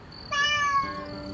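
One cat gives a single clear meow, close and fairly loud, rising over a quiet indoor background and fading within about a second.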